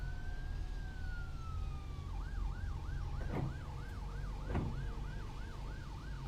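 A wailing ambulance siren from the MS Gen3 video game sounds alone and steady. It opens with a long slow tone, then switches to a fast repeating yelp that holds to the end, with two brief clicks partway through.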